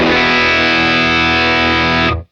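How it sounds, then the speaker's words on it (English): Kilt overdrive pedal on a worship guitar pedalboard set to hard clipping distortion: a loud, thick, sustained distorted guitar chord ringing steadily for about two seconds, then cut off abruptly. "I kind of treat it as like my hard clipping option, like my distortion, right?"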